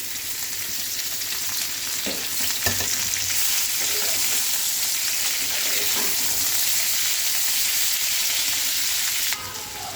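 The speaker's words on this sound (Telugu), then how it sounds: "ఇప్పుడు మనం ఒలిచి పెట్టుకున్న చిక్కుడుకాయలు కూడా వేసేస్తున్నాం" Shelled cluster beans frying in a hot pan for a village-style curry, a steady loud sizzle and hiss throughout with occasional stirring knocks, fairly close and without talk.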